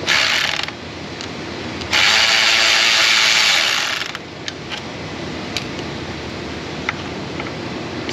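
Clips and fasteners are pulled out on a BMW 530i 3.0 engine that is running rough: loud, close broadband rasping and hiss in two long stretches, then scattered sharp clicks.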